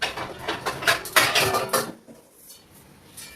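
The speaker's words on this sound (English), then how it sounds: "I'm going to get the rest of my pans out" Metal pans clatter and clink as they are pulled out and handled in a home kitchen, a quick run of close, bright knocks and scrapes over about two seconds, then near quiet.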